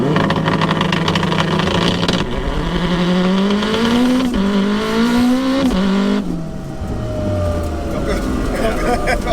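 A turbocharged all-wheel-drive Honda DC5 Type R with a sequential gearbox launches hard. The engine is loud and close, its pitch climbing steeply through several quick upshifts before it eases off near the end.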